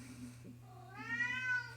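An old cat, about fifteen years old, lets out a rising, drawn-out meow in the second half of the moment, near and fairly clear over a steady low hum.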